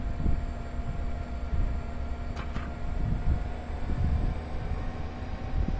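Train driving on the Peninsula route in Train Sim World 2, a steady low rumble and hum of the moving train with a brief higher tone partway through.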